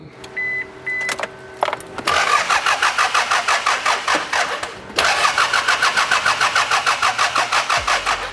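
An old project car engine cranks with a rapid rhythmic whirring, stops briefly, cranks again at length in even pulses and finally catches, loud and close, with electronic beeps and clicks at the very start.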